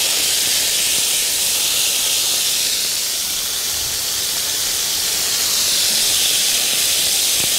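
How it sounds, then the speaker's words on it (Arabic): Meat pieces fry in a pan over very high heat, giving a loud, steady sizzle and hiss that runs unbroken throughout with no speech. "ما خدتش وقت خالص، اتحمرت على طول، ليه؟ النار عندي كانت عاليه قوي."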